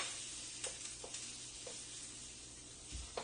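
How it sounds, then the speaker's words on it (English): Garlic and ginger hit onions frying in a pan for a teriyaki stir fry, giving a faint, steady sizzle with a few light stirring clicks. "We'll throw the garlic in there along with the ginger."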